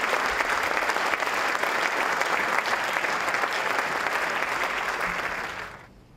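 An audience at an evening oration event applauds a brigadier general walking to the podium, loud sustained clapping from a large crowd that fades out at the end.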